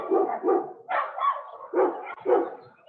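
Several dogs bark in short bursts at a nearby dog park, about five loud, rough barks coming in a loose, uneven rhythm with brief pauses between them.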